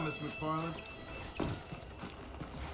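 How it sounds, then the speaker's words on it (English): A horse's hooves clip-clop in a steady walking rhythm while a rider travels across the Wild West in Red Dead Redemption, fairly faint under a character's short spoken line. "Okay, let's see if you can still ride a horse."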